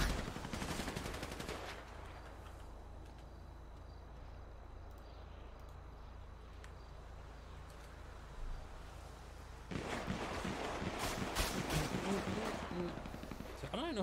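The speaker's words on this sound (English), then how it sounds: "So I don't even know who's shooting right now" Bursts of automatic gunfire in a GTA roleplay prison transport break, dense rapid rattling at the start and again near the end, loud and close, with a quieter stretch between.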